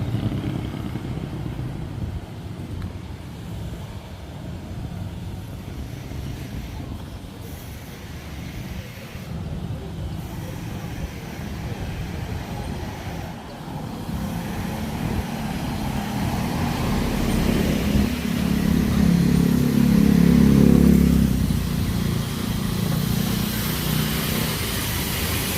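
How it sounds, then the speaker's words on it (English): Street traffic in the Philippines with motorcycles and cars, a continuous roadway rumble that builds as engines pass nearby, with a heavier vehicle droning close around the loudest stretch. "Traffic's starting to pick up."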